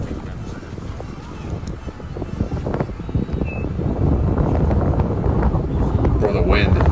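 Strong gusts of wind buffeting the microphone, roaring louder and more constantly toward the end, with no voices.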